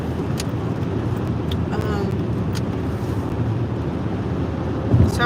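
A steady low road rumble and wind hiss fill a moving car's interior, a constant drone with no clear breaks, close and fairly loud throughout.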